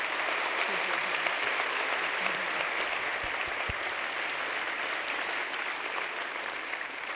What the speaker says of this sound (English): let's give our speakers a huge round of applause